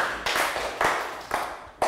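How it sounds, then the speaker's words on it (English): Short bursts of clapping from a Year 3 class cheering a classmate during an English lesson, arriving as four separate sharp onsets that each fade before the next, with no talk over them. "And round of applause for Prel."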